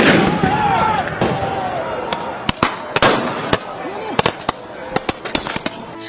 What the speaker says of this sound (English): With clashes outside Congress in Lima involving tear gas, fireworks and rocks, Jeri announced a state of emergency in Lima